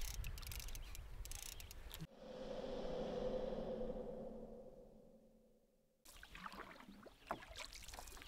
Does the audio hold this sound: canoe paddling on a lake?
yes